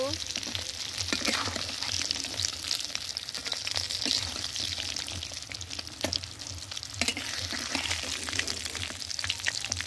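Koi fish frying in hot oil in a home kitchen, a steady dense sizzle with crackling and occasional stirring scrapes, close and continuous throughout with a low background hum.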